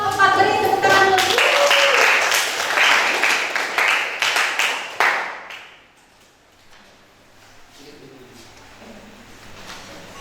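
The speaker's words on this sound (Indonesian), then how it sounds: "beri tepuk tangan dulu" A classroom claps for group 4, with loud applause and scattered sharp claps over a voice before and during, and then it dies away to quiet room noise.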